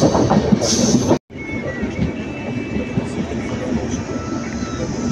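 A train rolling through Bommidi station without stopping, on the Salem to Bangalore line, a continuous rumbling roar with clattering wheels and a brief high squeal, cut by a short dropout before the noise resumes.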